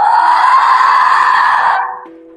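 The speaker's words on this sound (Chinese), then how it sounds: "发出一声凄厉尖叫。" A woman lets out one long, shrill, piercing scream that holds for nearly two seconds, then cuts off, leaving a faint lingering tone.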